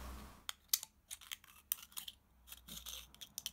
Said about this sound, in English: I'm just going to cut right down the centre with some scissors